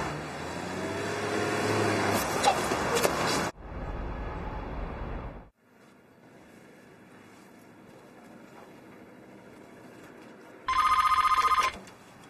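A telephone rings in a short burst near the end, a bright electronic ring sounding clearly after several seconds of louder ambient noise and a low, quiet hum.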